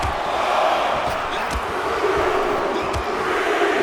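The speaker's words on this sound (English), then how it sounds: "This lively digital crowd here in San Diego, California is hyped up for this match." A digital crowd at a wrestling show in San Diego, California, keeps up a steady, dense roar of cheering, with a few sharp slam-like thuds from the ring cutting through now and then.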